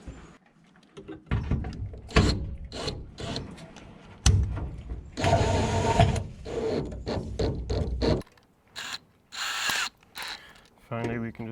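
A steel galley band is fastened to the steel sheeting of a barn owl nest box: a run of close, sharp metallic clanks, scrapes and ratcheting clicks in uneven bursts, with pauses between.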